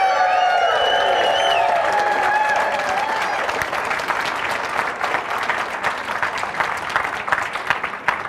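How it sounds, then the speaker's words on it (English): A live audience bursts into a loud, sustained round of applause with scattered cheers and whoops, the clapping dense at first and thinning slightly toward the end. "Give a round of applause"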